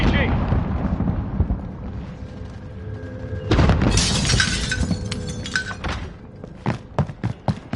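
RPG rocket explosion in a video game: a dull thump, then a loud bright shattering burst with debris and scattered sharp cracks trailing off, voices and game noise underneath.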